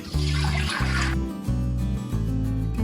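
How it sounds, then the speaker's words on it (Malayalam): Two to three litres of water pour into an uruli cooking pot in a home kitchen. The stream runs as a steady, fairly loud gush, and its tone shifts with brief pauses as the pot fills. "വെള്ളം ഒന്ന് ഒഴിച്ചു കൊടുക്കാം."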